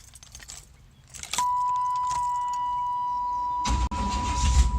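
Keys jangle and clink close by inside the cab of a 1992 Chevy S10 with a 5.7 TBI V8 swap, a steady electronic chime sounding behind them before a low rumble rises at the end.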